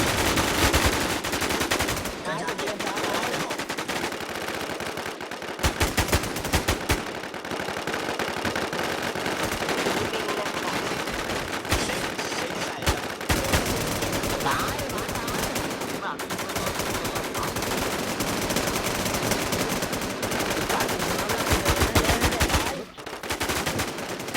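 Gunfire in the video game WarZ AfterlifeZ: sustained bursts of rapid automatic fire crackle almost without a break, loud and dense, with a few short gaps and faint talk beneath.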